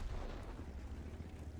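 A low rumbling blast as a tank's ammo rack is hit in World of Tanks, a brief deep explosion with a rolling, muffled body heard faintly and close.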